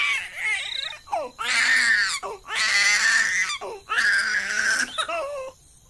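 A baby girl cries on the ground of a house courtyard at night. Three long, loud wailing bursts are broken by short gasps, close and alone with no talk.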